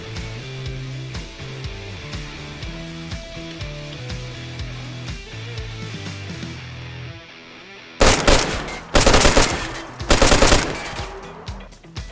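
Rapid bursts of video game gunfire blast at a stuck vehicle, loud and close, arriving in three dense volleys after a stretch of melodic background music.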